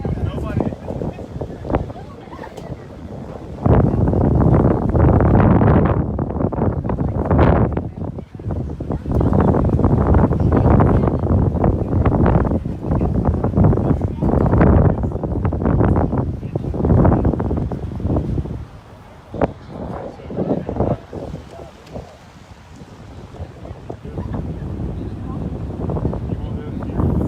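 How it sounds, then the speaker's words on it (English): Strong wind roars and buffets the microphone on an open Alabama beach, a loud, continuous rushing gust noise that swells and dips throughout, with no one speaking. "that sound you can hear is the wind"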